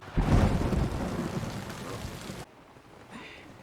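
Heavy rain pours steadily with a deep rumble of thunder in a dramatic TV series scene, loud at first, then falling away to a softer patter of rain.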